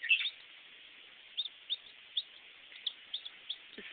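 A Serama chicken gives a series of short, high, thin chirping calls at irregular intervals, faint and close against a quiet background.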